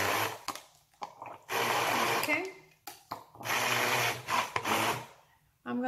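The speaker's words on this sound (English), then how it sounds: "we want to blend and continue breaking down the garlic" A kitchen blender grinds garlic for a pork roast in several loud bursts separated by short pauses, with a voice heard in the gaps.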